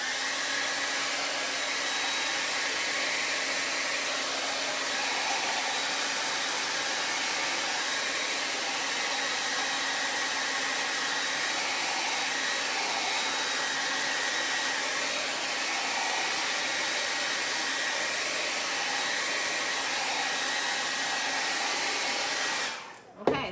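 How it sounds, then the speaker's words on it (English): Hair dryer blowing to dry white wax on a painted jar, a loud, steady whooshing hum running unbroken for over twenty seconds before it is switched off. "I'm just gonna turn my hair dryer on"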